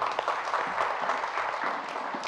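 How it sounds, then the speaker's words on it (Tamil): A congregation at a Tamil Catholic church service claps steadily, a dense, even patter of many hands that holds at a constant level throughout. "கைத்தட்டி ஆண்டவருக்கு நன்றி சொல்லுங்கள்."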